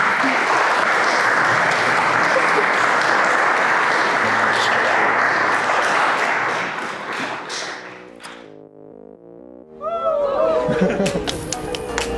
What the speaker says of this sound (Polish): Więc jeszcze raz, ogromne brawa.